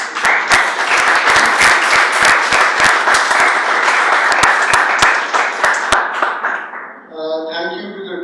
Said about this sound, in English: So can we just give a round of applause?